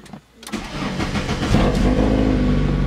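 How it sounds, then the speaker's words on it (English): A car engine cranks and catches after a pressure switch repair, then settles into a loud, steady running hum, heard close and without talk. "Well, the car still starts."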